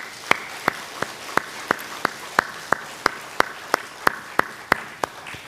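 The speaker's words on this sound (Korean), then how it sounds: "하나님께 영광의 박수 올려드리겠습니다" A church congregation at a Korean Sunday worship service claps in unison, a slow, evenly spaced series of sharp claps about three per second, moderately loud over a quiet room.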